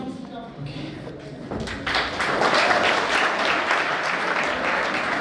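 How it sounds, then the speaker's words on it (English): Audience applause at a college technical festival after a student performance, the clapping swelling in after about two seconds into a dense, sustained crowd clatter, with talk and crowd noise beneath. "Guys, give a huge round of applause for this awesome act."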